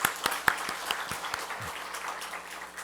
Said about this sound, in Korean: 다시 한번 박수로서 축하해 주시기 바랍니다.